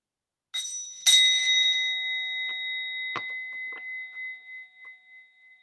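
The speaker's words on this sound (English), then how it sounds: "I'll invite you in with the bell and then invite you out." A meditation bell is struck twice at a summit gathering, each strike ringing into a long, clear, slowly fading tone, followed by a few soft taps in an otherwise quiet room.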